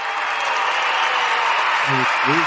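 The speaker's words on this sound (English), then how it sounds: "Just clap." A live studio audience claps in a steady, dense burst, with a voice briefly surfacing near the end over the applause.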